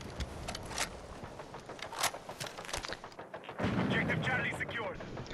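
DMR rifle gunfire in Battlefield 6 multiplayer: scattered sharp shots at irregular intervals over a busy battlefield, with a voice talking over them and heavier noise swelling near the end.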